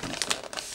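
Gift wrapping paper for Christmas presents crinkles and rustles close by in a short, busy burst of crisp crackles.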